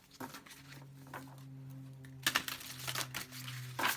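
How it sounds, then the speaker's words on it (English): Tarot cards being shuffled in quick crisp riffles and taps, with a steady low hum running underneath throughout. "All right, one more shuffle."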